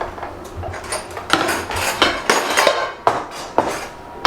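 A cooking pot is handled on the stove, giving repeated metallic clanks and knocks against utensils at an irregular rhythm. The sounds are close and fairly loud, with no talking.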